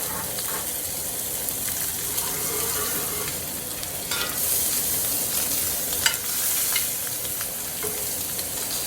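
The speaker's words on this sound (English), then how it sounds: "I'm gonna go ahead and add our butter at this point." A steak sears loudly in a hot pan as butter goes in, giving a steady dense sizzle with a few sharper spatters and bursts close by and no speech.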